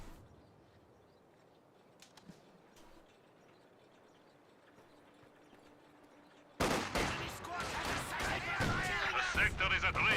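DShK heavy machine gun fire in the Company of Heroes 2 strategy game, loud dense bursts of rapid shots rising abruptly after a quiet stretch with faint game sounds.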